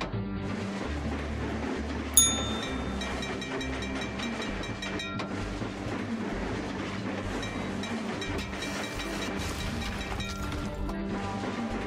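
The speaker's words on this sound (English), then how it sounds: "How am I gonna get the runaway train to stop?" A runaway train in the Trainz video game rolls on with a continuous rumbling drive and rhythmic low pulses, a sharp metallic crash early on, and ringing tonal chimes over the mechanical noise.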